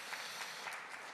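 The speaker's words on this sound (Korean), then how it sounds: "다시 한번 큰 박수를 보내주시기 바랍니다" An audience at a maritime and shipbuilding conference, the 2023 World Ocean Forum, gives a speaker a brief round of applause, a faint, distant, even patter of many hands clapping.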